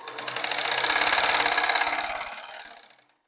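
A sewing machine runs steadily while stitching ladies' salwar fabric, its fast motor whir rising and holding for a few seconds before winding down to a stop, close and fairly loud with no talk.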